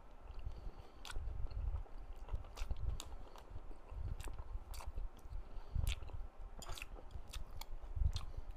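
Close, crunchy bites and chewing of Puradak gochu-mayo fried chicken with jalapeño, a run of crisp crackling bursts spread through the clip against quiet background, with no talking.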